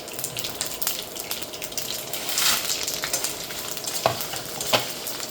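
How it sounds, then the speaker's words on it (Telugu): Dried red chillies and mustard seeds frying in hot oil for ginger chutney, giving a close, steady crackling sizzle with a few sharp pops and spoon clinks near the end. "ఎండుమిర్చి కూడా కొంచెం కలర్ చేంజ్ అయ్యేదాకా వేయించుకోవాలండి"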